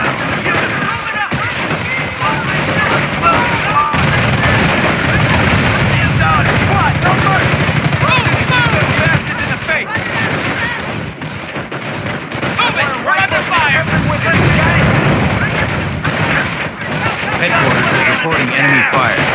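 Dense, continuous gunfire from the PC strategy game Company of Heroes: overlapping rifle and machine-gun bursts, distant explosions and battle noise fill the whole stretch, with game voices calling out over the din.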